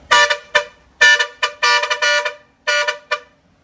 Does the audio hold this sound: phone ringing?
no